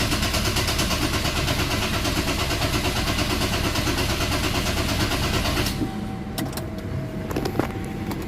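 A Ford Ranger common rail diesel engine, just after its fuel filter and injectors were bled, clatters loudly and steadily for several seconds, then drops to a quieter level with a few faint clicks.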